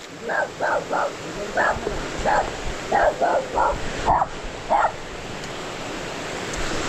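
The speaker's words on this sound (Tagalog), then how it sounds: "Baka manghabol yung aso, Ariel." A dog barks about nine times in short, uneven bursts. Steady wind and surf roar in the background.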